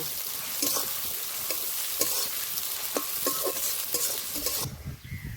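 Chopped onions sizzle and fry in a pan for a village-style Bengali chicken curry, with steady close crackling and repeated spatula scrapes and stirs, ending in a sudden quieter stretch.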